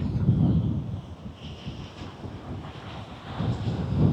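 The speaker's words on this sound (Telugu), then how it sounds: "ఈ గాలి, ఆ వేవ్స్ అండ్ ఆ సౌండ్" Wind buffets the microphone in low rumbling gusts, with the wash of sea waves on Uppada beach underneath.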